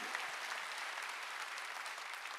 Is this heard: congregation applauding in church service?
yes